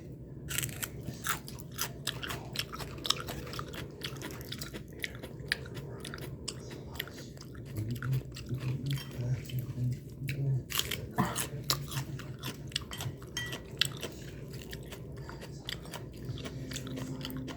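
Raw green onion being bitten and chewed up close, with a steady run of crunchy, moist mastication sounds over about seventeen seconds, alone without talk.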